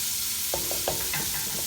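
Cabbage and vegetables fry and sizzle in a pan for a cabbage bhaji, with a steady hiss and a few sharp scraping stirs of a utensil against the pan, close up.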